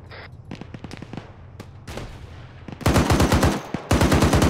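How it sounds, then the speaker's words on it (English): An anti-tank weapon fires in a military video game set among contractors in Africa, with scattered single shots giving way to dense, loud bursts of rapid gunfire near the end. "That was an AT shot."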